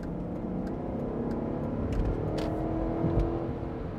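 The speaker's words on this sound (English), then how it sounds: "So second gear, listen to the purr of this V8." A Range Rover V8 pulls in second gear under manual sport mode, a steady low engine drone that swells slightly as it accelerates, heard from inside the cabin with no talking.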